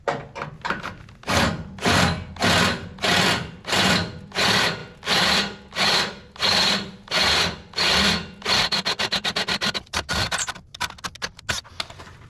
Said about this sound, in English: Now I'm going to drill out that second one